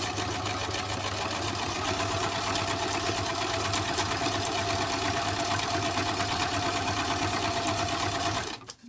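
A sewing machine runs continuously as it stitches a zigzag stitch, a steady close mechanical whir with a rapid rhythmic needle beat that cuts off abruptly at the end.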